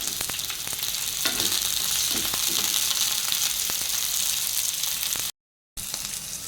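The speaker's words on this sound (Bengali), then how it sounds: "পেঁয়াজটা কাঁচা লঙ্কাটা ভাজা হয়ে গেছে" Chopped onion and green chilli fry in hot oil in a pan, giving a steady, close, hissing sizzle with small crackles throughout, briefly cut out near the end.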